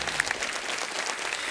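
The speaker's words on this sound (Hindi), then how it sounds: "तालियां जोरदार होनी चाहिए" Studio audience applause on a comedy talk show stage, a steady dense wash of clapping with a few sharper claps standing out, loud and continuous throughout.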